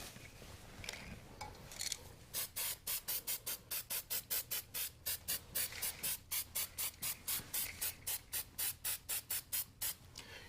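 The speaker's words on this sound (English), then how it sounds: "You're noticing that I'm using short little blasts of paint." A spray paint can is applied to a flower cake in a rapid series of short, even blasts, dozens of crisp hisses in a steady rhythm, close and alone, after a few softer sprays at the start.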